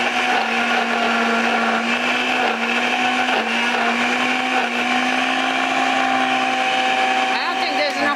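A household blender, not a Ninja model, crushes ice with a splash of water for slush, giving a loud steady motor whine that holds throughout with slight shifts in pitch as the load changes.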